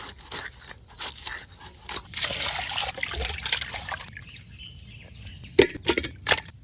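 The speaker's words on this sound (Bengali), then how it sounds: "মাংসটা ধোয়া হয়ে গেছে" Raw chicken meat being washed with water for a biryani, giving close, uneven trickling and splashing with scraping and handling noises, brief louder splashes near the end, and no talk.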